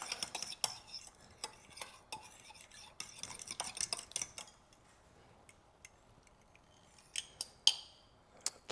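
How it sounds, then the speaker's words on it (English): A utensil stirs and clinks against a bowl while mixing a French toast dip, making light, uneven taps and scrapes that come in bursts, with a quieter stretch midway. "We're going to mix this up real good, and we're going to set this aside into our dish to dip the French toast"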